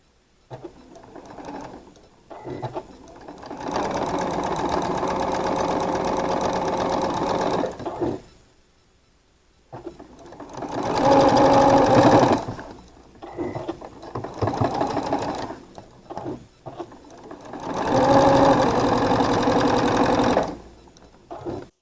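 A sewing machine stitching quilt block pieces, running loud and close in three long bursts separated by brief pauses, with a steady humming, clattering drive.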